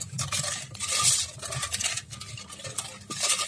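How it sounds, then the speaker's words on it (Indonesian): Sugar is stirred into a coconut milk pudding mixture, giving continuous close scraping and swishing of a utensil against a pot, with rhythmic strokes and no talking. "Kita aduk dulu hingga larut, hingga tercampur merata semuanya."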